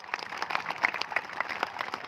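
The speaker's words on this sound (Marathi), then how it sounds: "सगळ्यांनी एकदा टाळ्या वाजवा" An audience at a Balumama birth-anniversary devotional gathering claps faintly and unevenly, scattered hand claps rising in small bursts against a quiet background.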